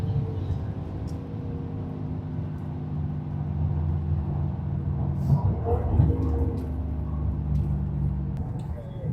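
A car engine runs steadily during a test drive after a distributor change, giving a continuous low, even drone at moderate level that swells slightly midway.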